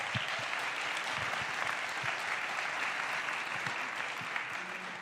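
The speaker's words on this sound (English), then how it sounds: "Round of applause." A large audience at a global citizen event applauds the new CEO of Gavi, a broad, even wash of clapping that holds steady throughout, with a few nearer claps popping out.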